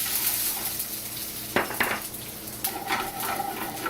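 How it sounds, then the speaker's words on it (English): Julienned Bermuda onion dropped into a smoking-hot pan, a soft sizzle with a few sharp clanks of utensil against metal midway and a louder rustle of frying after, close with no talking. "we're going to put in the julienne Bermuda onion"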